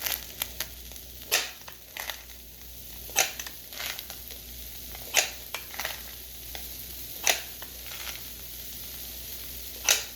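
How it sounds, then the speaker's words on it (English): Pancake batter cooks on a preheated griddle with a soft, steady sizzle, broken by sharp intermittent clicks and scrapes from utensils at irregular intervals, close and fairly quiet, with no talking. "Okay, so I got those pancakes on."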